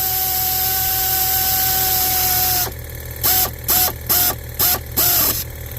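A quarter-inch ratchet tightens bolts on a 2017 Chevrolet Sonic RS, heard as a steady mechanical drone followed by a run of short, sharp clicking bursts close by.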